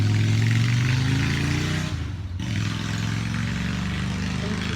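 A car or motorcycle engine revving outside, loud and steady with a sustained low drone that dips briefly midway before holding again, filling the whole stretch without talk.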